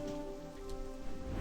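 Steady rain falls in World of Warcraft Cataclysm Classic across a burnt Hyjal landscape, a soft continuous patter with no voices and a low ambient hum beneath.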